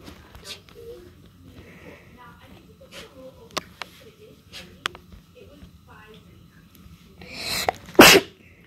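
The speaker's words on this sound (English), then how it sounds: "my dog is also sneezing, and I'm sneezing" A person and a dog sneeze near the end in a close, loud burst. Faint, scattered sounds and quiet background noise come before it.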